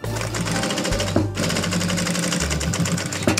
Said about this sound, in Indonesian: Oke, kita jahit melingkar teman-teman.